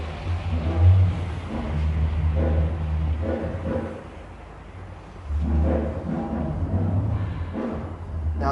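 An Envirofan Silverline 56-inch industrial ceiling fan winds down, a low, loud rumbling drone with a rhythmic pulsing whoosh that briefly dips and then swells again.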